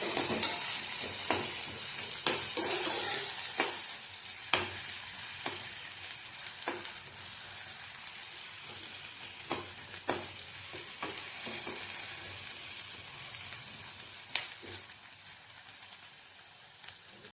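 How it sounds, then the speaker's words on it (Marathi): Onions frying in oil in a pan until golden, a continuous sizzle with the sharp clacks and scrapes of a spoon stirring at irregular intervals, close and steady, without talking. "कांदा चांगला गोल्डन कलर येईपर्यंत भाजून घ्यायचा आहे"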